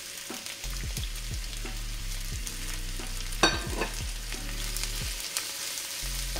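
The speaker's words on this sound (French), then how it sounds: "Et on va y faire revenir nos oignons." Onions fry in hot oil in a pan, a steady close sizzle with occasional stirring scrapes and clinks, alone without talk.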